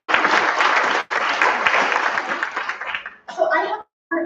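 An event audience at a Women's Health Day applauds the volunteers, loud dense clapping that breaks briefly, resumes, then thins into scattered claps with a short pause before a final burst.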